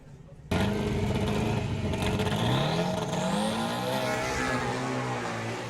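A Volkswagen drag race car launching off the line at Santa Pod during Greenlight Nationals qualifying, wheels lifting, bursting into a loud, close, rising engine roar that climbs in pitch and holds, with a voice faintly underneath.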